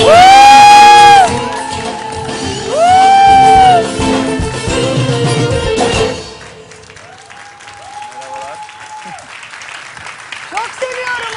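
A studio audience on a Turkish TV talk show bursts into loud applause and cheering with whoops. The crowd swells in two strong waves, then drops to softer clapping as voices and tonal sounds carry on above it.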